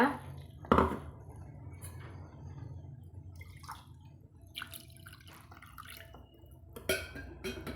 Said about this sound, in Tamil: இப்போ நம்ம தேவையான அளவு தண்ணி சேர்த்திக்கலாங்க